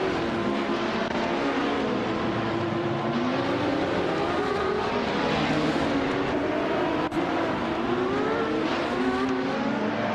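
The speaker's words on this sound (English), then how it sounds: "Hope you've been missing the excitement of watching cars race around the track driven by AI" Race cars driven by AI circle a track in a steady, unbroken engine roar, with layered tones rising and falling as cars pass and rev, loud and continuous throughout.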